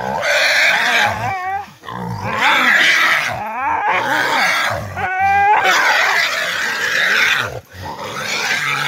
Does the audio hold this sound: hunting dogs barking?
yes